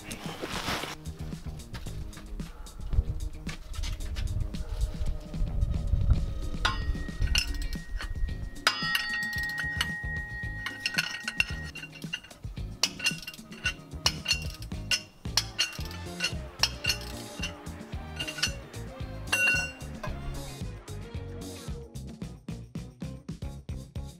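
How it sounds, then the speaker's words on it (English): Four hub nuts on a Tacoma rear axle are loosened with a 14 mm socket and breaker bar, with repeated light metallic clinks and taps of tools against metal, scattered and close, throughout. "now we can undo those 4 nuts using a 14 millimeter socket and a breaker bar"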